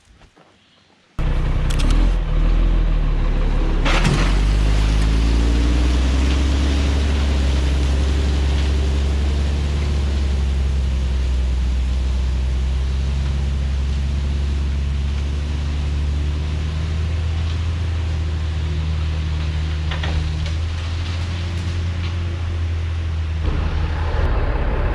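A Yanmar Vio80 excavator labors up a slick gravel slope, its engine droning loud and steady under heavy load for most of the clip, with tracks grinding and clanking beneath the engine noise.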